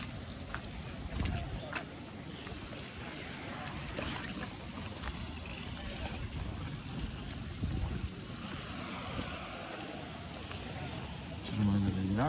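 A small boat being launched onto coastal water on a trip toward Land's End, with a steady wash of waves and wind noise throughout and a faint engine-like rumble near the end.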